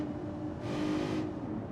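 A car engine in the BeamNG.drive game droning steadily through a tunnel, its hum reverberant and hollow, a brief swell of brighter wind noise in the middle, with no talk.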